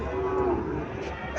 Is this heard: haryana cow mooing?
yes